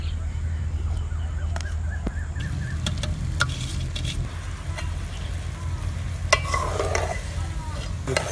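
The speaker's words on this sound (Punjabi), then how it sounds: "ਅੱਛੀ ਤਰ੍ਹਾਂ ਚਾਸ਼ਨੀ ਵਿੱਚ ਚਾਵਲਾਂ ਨੂੰ ਮਿਕਸ ਕਰ ਦਾਂਗੇ।" Rice is stirred into hot sugar syrup with nuts, green cardamom and karonda for zarda, giving scraping spoon strokes and a soft sizzle, with occasional light clinks.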